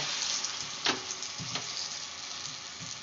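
Elephant yam balls dropped one at a time into hot oil, fizzing in a steady sizzle with a couple of brief louder splashes as balls go in.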